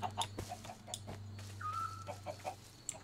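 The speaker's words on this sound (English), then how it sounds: "We have chickens." Chickens cluck in the Minecraft Valhelsia modpack, with soft, scattered clucks repeating at close range over a steady low background hum.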